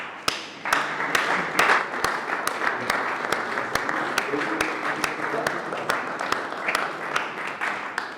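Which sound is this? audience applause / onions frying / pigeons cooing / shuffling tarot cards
audience applause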